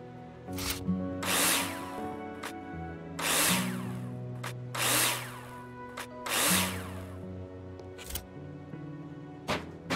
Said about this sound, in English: Now place them in the holograms and screw them in with a drill.